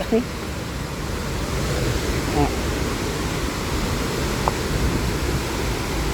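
A steady, broadband roar of Haew Suwat Waterfall in Khao Yai National Park, Thailand, fills the whole stretch, continuous and fairly loud, with a faint voice briefly audible beneath it.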